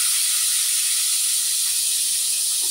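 Pork liver sautés in hot oil in a pan, a steady, loud, close hiss that holds unbroken throughout.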